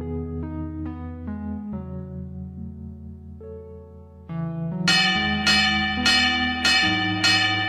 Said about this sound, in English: not responding to the fourth round opening bell